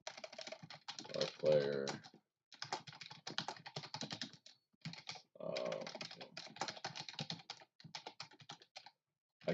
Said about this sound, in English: I can't believe how many times I'm typing that out.